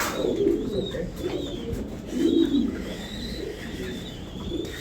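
Pigeons coo repeatedly at a crowded pigeon farm, soft low throaty calls rolling on and off close by, with faint chirps and a steady background hum.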